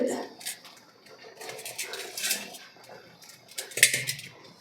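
A spoon stirs cooked tapioca and sardine mix in a pot, with soft scraping and clinks of metal against the vessel, while a person talks over it throughout.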